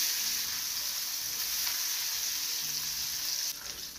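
Liver sizzling steadily in a hot pan, butter-fried in a Turkish home kitchen; a continuous close, even crackle with no talk, thinning slightly near the end.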